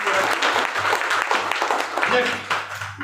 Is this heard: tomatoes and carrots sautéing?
no